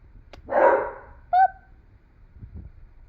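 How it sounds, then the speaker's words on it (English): A single dog bark followed by a short high yip or whine, close by, reacting to a passing ice cream van, with quiet background otherwise. "So he's barking at the sound of"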